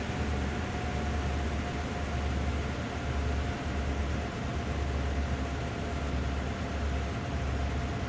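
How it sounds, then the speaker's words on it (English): Steady, broad rumble of a train rolling past in the railway simulator Train Sim World 2 on the Horseshoe Curve line, continuous and fairly loud, with a constant low drone and a faint high tone running through it. "Oh, I think that was the train we were supposed to wait for."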